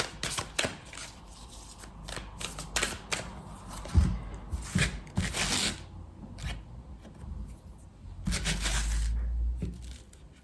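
Tarot cards are shuffled and riffled in several quick bursts of crisp flapping and slapping, close and fairly clear against a quiet background, with short pauses between rounds and no talking.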